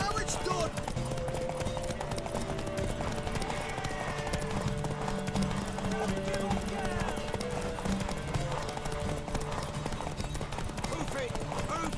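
Horse hooves in the video game The Witcher 3, a steady rhythmic clip-clop running the whole time at moderate distance, with voices talking over it.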